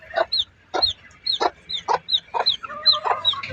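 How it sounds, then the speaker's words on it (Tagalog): A young bird peeps repeatedly in short, evenly spaced calls, close and clear, each chirp sliding upward, about eight in a row. "Gutom na itong sisiw na ito."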